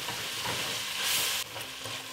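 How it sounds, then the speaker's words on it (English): Onions sweat in a braising pot used for beef chuck pot roast while the pan bottom is scraped. A close, continuous sizzle swells briefly in the middle, with a soft hiss of scraping and no voices. "But as they sweat, scrape the bottom to release all that fond"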